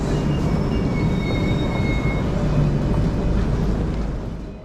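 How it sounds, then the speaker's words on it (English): A PKP EP09 electric locomotive hauls a ČD InterCity train from Warsaw toward Prague. A steady, loud rumble of rolling stock and rail noise runs throughout, with faint tonal whines above and a slight fade at the end. "This PKP EP09 electric locomotive will take us as far as Bohumin"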